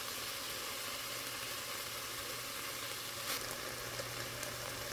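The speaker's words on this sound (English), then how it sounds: "Just a light sear." Elk meat searing lightly in a pan for stew, a steady, quiet sizzle with a faint low hum beneath and no voices.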